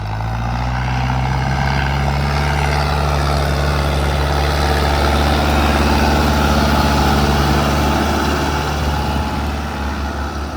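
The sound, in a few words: tractors with cultivators running in a field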